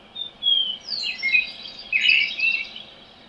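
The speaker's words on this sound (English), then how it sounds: "birds chirping," Recorded birdsong plays from a Hatch Restore sleep sound machine: a run of bright, high chirps and twitters in quick overlapping bursts, fairly close, with no voices.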